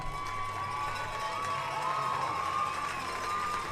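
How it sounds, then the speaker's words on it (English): A steady roar of crowd cheering and whooping at a high school football state semifinal, a standing ovation for an injured player, loud and sustained without pause. "Fans give him a standing ovation."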